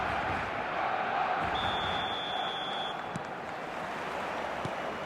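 A steady, roaring wash of stadium crowd noise fills a match in the eFootball video game, constant and fairly loud, with a thin whistle-like tone briefly rising above it.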